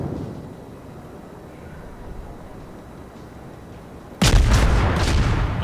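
Anti-air cannons in the naval combat game World of Warships start abruptly after a low rumbling lull, then keep up loud, dense, continuous booming fire to the end.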